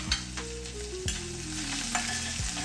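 Cumin seeds, green chili and grated ginger frying in two spoons of oil in a pan, a soft continuous sizzle with occasional light stirring knocks, no voices.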